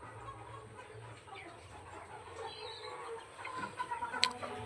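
A restless rooster clucking softly while being weighed on a scale, with low scattered clucks under quiet handling noise and a brief sharp squawk near the end.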